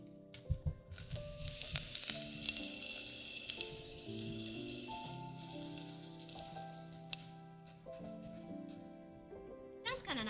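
Garlic frying in a pan while camp-style cooking, a soft crackling sizzle running under talk and musical tones, fairly faint and continuous.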